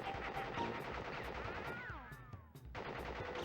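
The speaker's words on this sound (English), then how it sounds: "Fires his gun." Rapid gunfire from a boss character in the Crash Bandicoot video game, a dense, steady run of shots up close, broken by a brief dip near the end before the firing resumes.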